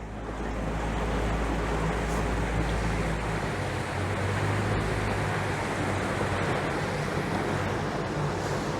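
A boat cruising through water at moderate speed just below planing, steady wash and rushing water with wind buffeting the microphone, a quiet engine barely evident beneath the continuous surf-like noise.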